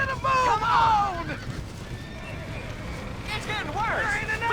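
Horses neigh and whinny inside a burning barn in the video game Red Dead Redemption, with shrill cries in two bursts over constant crackling background noise, and shouting voices throughout.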